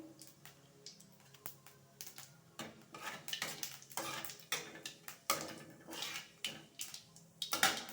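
Whole cumin seeds fry in oil in a pan, faint sizzling under repeated clinks and scrapes of a spoon against the metal, quiet and close with uneven knocks.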